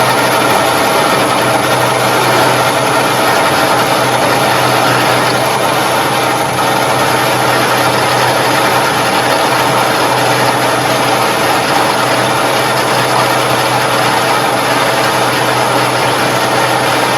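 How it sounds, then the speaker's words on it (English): A lathe drives a Morse taper drill from the tailstock through a piece of metal tubing for a 1960 Bolens Ride-a-matic front axle, producing a loud, steady, continuous whirring and grinding hum close by. "So we will get this set up now, ready to put this drill through our bit of tubing."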